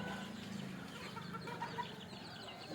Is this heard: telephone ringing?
no